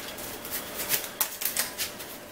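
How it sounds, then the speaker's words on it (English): A deck of Yu-Gi-Oh! trading cards is shuffled up close, giving a quick series of soft riffling clicks and flutters alone over about two seconds. "and I will shuffle my deck."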